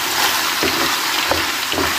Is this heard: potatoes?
yes